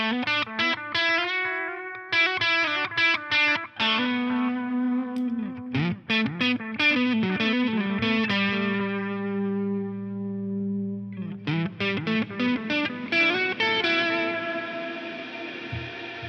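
Electric guitar notes and chords ring out with reverb and analog delay trails through a Line 6 HX Stomp, played alone with rhythmic bursts and sustained tones.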